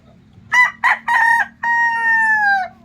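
A gamecock rooster crows once nearby, loud and clear, with three short choppy syllables followed by a long drawn-out final note, over a faint low background hum.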